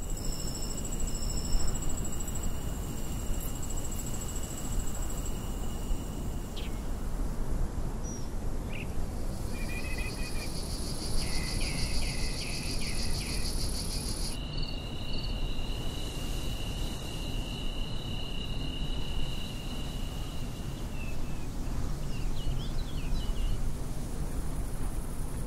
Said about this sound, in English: We also simulated the night and day soundscape with different ambience at night time.